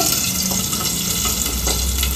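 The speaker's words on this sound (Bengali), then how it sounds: "আমার সব মাছ ভাজা হয়ে গেছে, লাস্ট একটা চলছে" The last piece of fish fries in a pan with a bright, constant sizzle and spatter, close up and without talk.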